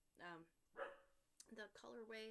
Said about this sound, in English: Sorry, that's my dog, and she's losing her mind.